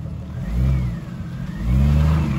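An off-road jeep at Rausch Creek revs its engine in two surging bursts with a brief dip between, loud and close, with no voices over it.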